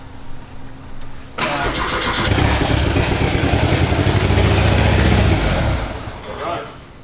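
A hot rod's engine cranks and fires up abruptly, then settles into a loud, steady, close idle with a rhythmic throb that lasts several seconds before easing off. Voices talk over the running motor.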